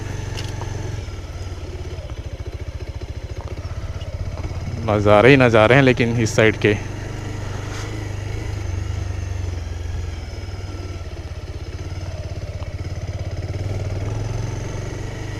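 Pulsar motorcycle idling and rumbling low and steady on an off-road jungle track, a continuous engine drone beneath someone speaking briefly in the middle.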